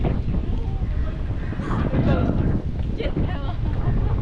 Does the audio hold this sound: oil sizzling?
no